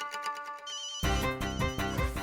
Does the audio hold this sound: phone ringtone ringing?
yes